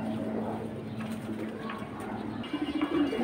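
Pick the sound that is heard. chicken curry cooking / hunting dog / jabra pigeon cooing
jabra pigeon cooing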